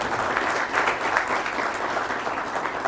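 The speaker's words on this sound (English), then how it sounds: "So round of applause for your presence here." Applause from an audience at an HR conclave, a dense, continuous wash of many hands clapping at steady loudness throughout, filling the hall without pauses.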